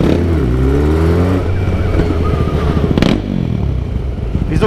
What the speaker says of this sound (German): Wieso fährt man so eine mächtige, getunte Scheißkarre?